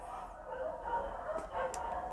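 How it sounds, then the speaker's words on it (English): Dogs bark and yip in short bursts somewhere off in the distance, faint over a low background hum. "Noisy dogs."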